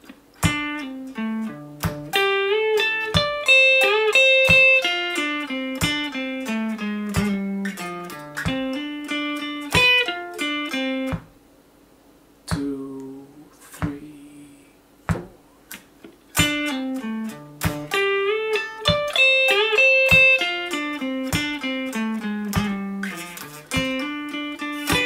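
Electric guitar plays a lick, clean plucked notes in quick rhythmic phrases with a brief pause mid-way, then the phrase repeats.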